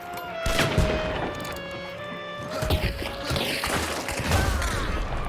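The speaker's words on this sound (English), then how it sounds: "You can pop explosive ammo into this thing and make the enemy feel like they're being bombarded by mortar fire" Explosive ammunition fired from a gun in Hunt: Showdown, a run of heavy booming shots and impacts like a mortar barrage, loud and dense, with background game noise layered in.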